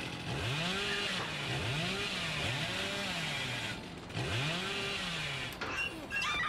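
The Hillbilly's chainsaw in Dead by Daylight revs repeatedly in loud, rising and falling bursts, several cycles in a row with brief pauses and game effects between them.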